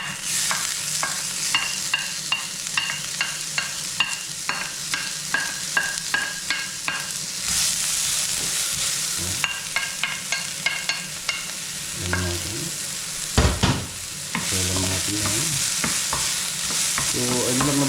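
Garlic and onion for sardines sautéing in a pan, with a steady sizzle under repeated scraping and tapping strokes of a utensil and a couple of louder clanks, with no talking.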